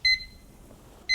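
A kitchen timer gives two short electronic beeps while being set for cooking spaghetti, one at the start and one at the end, close and clear over a quiet room.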